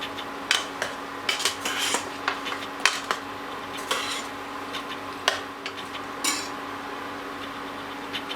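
A spoon stirs lamb paya gravy in a cooking pot, giving intermittent metallic scrapes and clinks against the sides over a steady low kitchen hum, with no voices.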